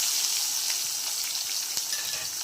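Sliced onions frying in hot oil for a Rayalaseema country chicken curry, giving a steady close hiss and sizzle with faint crackles and no talk.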